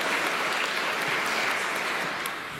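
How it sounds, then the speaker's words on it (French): A congregation at a Catholic Palm Sunday mass applauds, a steady wash of many hands clapping that fills the room and tapers slightly toward the end, with no talk over it. "On pourra applaudir toutes ces personnes-là aussi."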